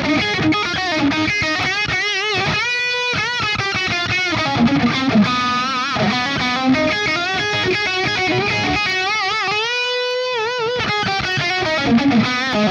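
Electric guitar through a Headfirst-modded Origin 20 amp with diode clipping, continuous overdriven riffing and bending lead notes, loud and full-bodied with no talking.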